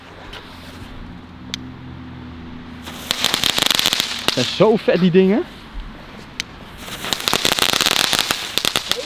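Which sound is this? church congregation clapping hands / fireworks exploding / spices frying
fireworks exploding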